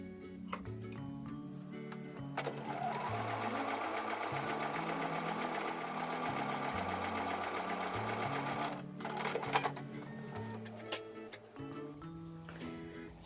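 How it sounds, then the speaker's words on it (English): A sewing machine runs in steady bursts, stitching quilt block pieces with a quarter-inch seam, its fast mechanical ticking close and clear, with short pauses between runs. "So I'm going to take those over to the sewing machine and sew with a 1/4 inch seam."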